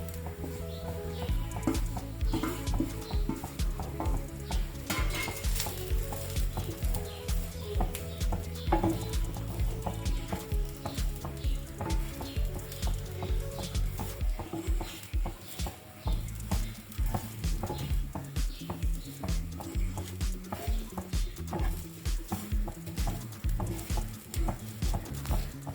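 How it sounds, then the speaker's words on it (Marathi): Freshly grated coconut roasting in a pan for a Konkan-style Malvani chicken curry gives off a steady, close sizzle, with repeated scraping and stirring strokes throughout and no talking. "आता आपलं ओलं खोबरं पण व्यवस्थित तांबूस रंगावर भाजून झालेलं आहे"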